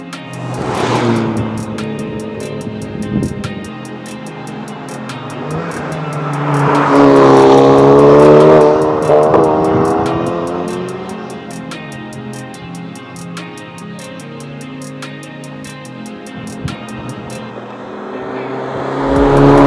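A Honda Civic Type R FL5 runs hard around the Nürburgring, heard from inside: loud, sustained engine drone rising and falling through gear changes and acceleration, with a steady ticking and sporadic wind and road noise.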